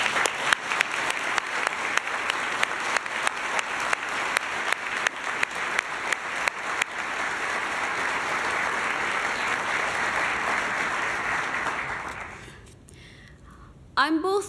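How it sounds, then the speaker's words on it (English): Audience applause at an award ceremony, opening with distinct rhythmic claps that merge into a steady wash, then fading out before a voice begins at the close. "Let's give them a big round of applause."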